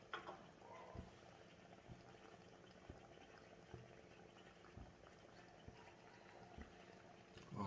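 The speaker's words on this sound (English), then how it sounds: "you could keep on hearing the alcohol boiling" Alcohol bubbling inside a Fire Maple Volcano alcohol stove, a faint steady simmering hiss with soft regular pops or ticks about once a second, close up and with no talking.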